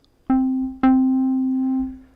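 An Arturia MicroFreak synthesizer on its Keys 2 preset plays two clear harmonic notes, each with a sharp attack; the second note sustains for about a second before fading.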